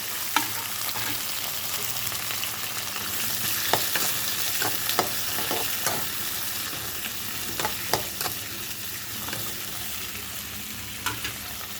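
Onion, a single tomato and garlic sauté in a pan for an aubergine kara kuzhambu, a constant close sizzle with irregular clinks and scrapes from a spoon stirring against the metal.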